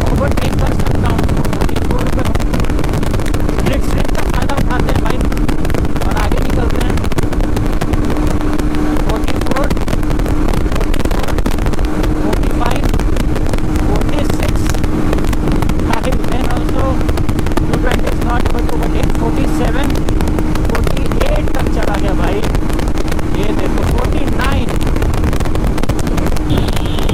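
A Yamaha R15 V3 motorcycle accelerating hard at high speed in a drag race against a Bajaj Pulsar 220F, with a loud sustained engine roar buried in heavy wind rush throughout and someone speaking over it.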